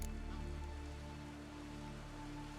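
Steady rain falling on surfaces in The Witcher 3, a soft continuous hiss of droplets with a low ambient hum beneath, faint and even throughout.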